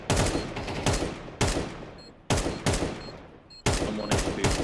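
Rapid bursts of automatic gunfire in a Counter-Strike match between Vitality and NAVI, several loud volleys separated by brief pauses, with faint game beeps in the background.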